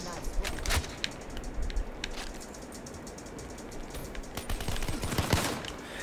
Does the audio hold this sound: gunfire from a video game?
yes